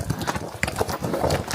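Horse hooves clip-clop on a trail during a tourist horse ride at Kaindy Lake near Almaty, Kazakhstan, a run of uneven, close knocks under outdoor noise.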